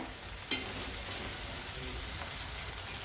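Brinjal pieces frying in a pan, a steady close sizzle with a sharp scrape of stirring near the start and softer spoon movements afterward.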